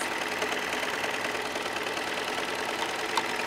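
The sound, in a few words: sewing machine stitching and trimming a blind hem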